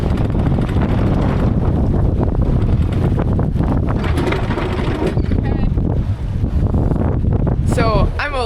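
A squall batters a sailboat at anchor, steady loud wind roaring and buffeting across the microphone with the rush of water beneath, one continuous blast with no break and a faint voice under it near the end.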